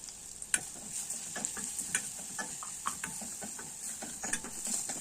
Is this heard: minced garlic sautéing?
yes